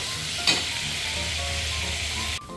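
Pork ribs fry in hot oil in a home kitchen with a steady, close, loud sizzle and a brief crackle burst early on, before the hiss abruptly drops near the end.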